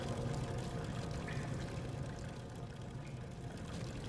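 Steady, dense rush of water pouring in the horror video game Amnesia: The Dark Descent, a continuous splashing wash that holds an even level throughout with no voices over it.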